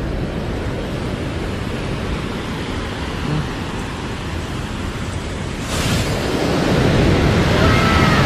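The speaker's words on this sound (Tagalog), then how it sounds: "Dito malakas agos. Lakas." Water released from the Cong Dadong Dam rushes in a continuous loud roar like heavy surf, swelling slightly toward the end, with no break in the flow.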